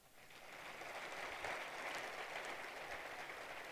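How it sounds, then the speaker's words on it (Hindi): A crowd claps steadily in a large space, the applause swelling slightly in the middle and continuing without voices. "पिंडाल में मौजूद लीडर्स वो जरा अपने लिए तालियां बजाएं"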